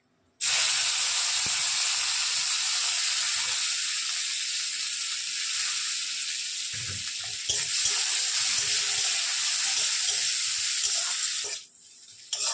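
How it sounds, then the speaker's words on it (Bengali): Chopped onion dropped into hot oil with tempering spices bursts into a loud, steady hiss and sizzle that holds for several seconds with a few faint stirring knocks before cutting off. "এবারে আমি পেঁয়াজ কুচিটা দিয়ে দিচ্ছি"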